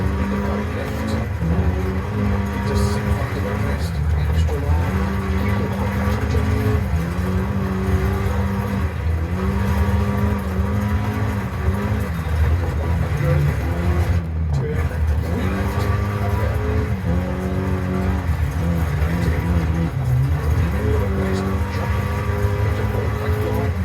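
Race car engine in a rally video game drones and revs continuously, rising and falling through gear changes and throttle swells, loud and close throughout.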